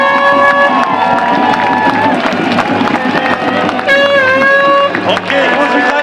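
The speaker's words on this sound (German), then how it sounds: "Und deswegen einfach Applaus!" A loud outdoor crowd at an anti-Corona-measures demonstration in Berlin cheers and shouts, with whoops, whistles and some clapping blending into a constant roar close by.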